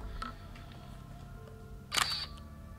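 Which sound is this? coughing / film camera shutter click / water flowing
film camera shutter click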